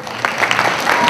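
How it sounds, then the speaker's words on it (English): An audience at a school drummers' show applauding to welcome the performers, a brief burst of dense, loud clapping heard alone. "let's bring them on with a good round of applause"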